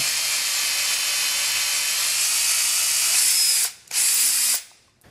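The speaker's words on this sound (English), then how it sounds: "as I turn the drill, is going to trim off just a little bit of the casing" A drill turning a case trimmer on brass cartridge casings whirs with a steady high hiss for several seconds, briefly stops, restarts, then winds down to quiet.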